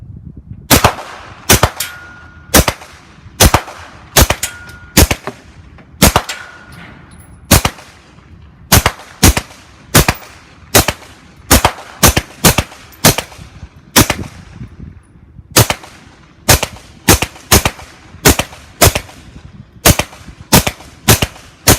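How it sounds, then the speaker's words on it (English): Suppressed 9mm carbine fired with Sig Sauer 147 grain subsonic ammunition through Kopis and Pilum suppressors: a long series of sharp, close reports, spaced roughly one per second with short gaps and no talk. "we're going to shoot it on a 9mm carbine"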